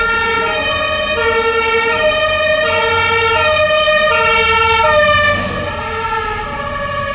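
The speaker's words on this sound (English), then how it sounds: "Oh, hold on, we got the sirens coming. They're so loud." Loud emergency vehicle sirens wail close by, several stacked tones sweeping up and down continuously before easing slightly near the end.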